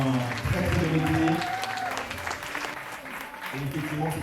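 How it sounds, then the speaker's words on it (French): Applause from a fashion show audience, moderate and continuous, with a voice and some tonal sound running beneath the clapping. "Et les applaudissements étaient amplement mérités."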